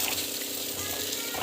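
Tamarind water bubbles and sizzles steadily in a pan, a close, continuous boiling hiss.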